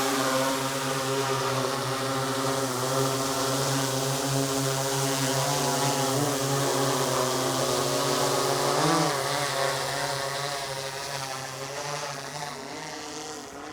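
A steady, loud propeller drone from a DJI Matrice 30 drone launching, with a strong tonal whine that holds throughout, briefly wavering in pitch near the end before easing slightly.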